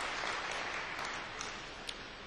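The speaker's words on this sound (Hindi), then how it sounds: "एक बार तालियां बजा करके मेरी हौसला अफजाई कीजिए।" Audience applause at a mushaira, a dense, steady wash of many hands clapping that holds evenly throughout without any voices on top.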